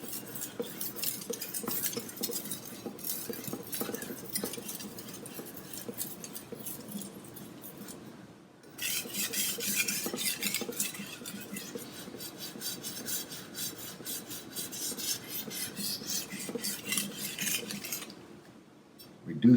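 A kitchen knife is sharpened on a whetstone, making repeated rhythmic scraping strokes with a short pause midway and then more steady grinding passes close up.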